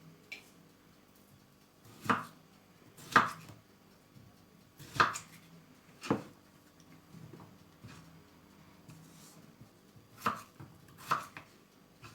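Sharp knife chops through potatoes on a cutting board, about eight distinct cuts at an irregular, unhurried pace, close and clear against a quiet background with no talking.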